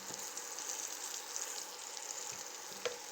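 Garlic and red onions fry in a pan with a steady, dense sizzle that holds evenly throughout, close and moderately loud, with a faint tap or stir near the end and no voices.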